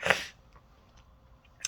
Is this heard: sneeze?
yes